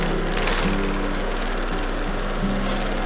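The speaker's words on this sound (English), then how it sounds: "I've slowed it down for cutting the steel, so my RPMs aren't quite as fast as they were when I was drilling it" A carbide end mill cutting steel at reduced spindle speed while making an alternator bracket for a 1946 Willys Jeep CJ2A, a steady, loud machine drone with wavering tonal whine and no pauses.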